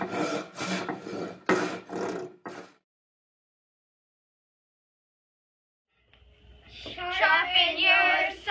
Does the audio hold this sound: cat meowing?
no